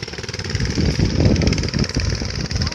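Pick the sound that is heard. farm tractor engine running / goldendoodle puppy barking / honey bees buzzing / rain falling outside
farm tractor engine running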